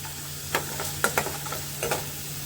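French fries crackle and sizzle in hot oil, with a steady frying hiss broken by sharp pops and stirring clicks close by.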